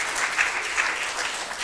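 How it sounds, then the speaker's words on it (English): A church congregation in Swansea breaks into soft, continuous applause as a singer walks up, an even patter of many hands heard from a slight distance. "Let's give her a round of applause as she comes up."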